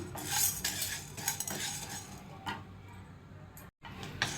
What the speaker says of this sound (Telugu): ఇది కొంచెం బ్రౌన్ కలర్ వచ్చేంత వరకు వేయించుకోవాలి